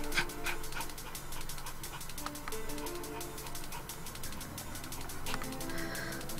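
A dog pants steadily in quick close breaths with faint whimpers mixed in, fairly quiet and without talk.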